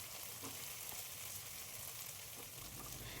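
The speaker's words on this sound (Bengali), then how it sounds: "সেটাকেও এখন ভালো করে পেঁয়াজের সঙ্গে আমি ভেজে নেব" Ginger garlic paste frying with onions in a pan, a steady, soft hiss of sizzling oil with faint crackles, continuous and fairly quiet with no talking.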